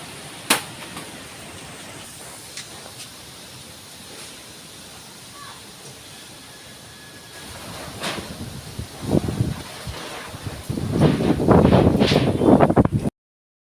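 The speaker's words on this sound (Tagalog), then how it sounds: "malakas ang hangin" Strong typhoon wind during landfall near the sea, heard from inside a house: a low, steady rushing noise that builds into loud, gusty buffeting over the final few seconds.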